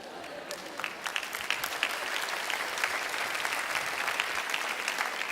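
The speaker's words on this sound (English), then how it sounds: "See, you applaud because you know." A church congregation applauding during a sermon, sustained clapping from many hands at moderate distance, fairly soft overall, with a few voices just audible underneath.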